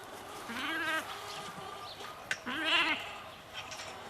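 Sheep bleating, two distinct wavering bleats about two seconds apart, moderately close against a quiet outdoor background with no talking.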